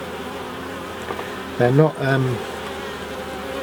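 Honey bees hum in a continuous low drone around an open hive during a UK beekeeping inspection, with a person speaking briefly over the buzzing.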